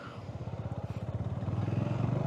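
A motorcycle being ridden, its engine throbbing in a steady pulsing rhythm that slowly builds in loudness, heard up close from the rider's position.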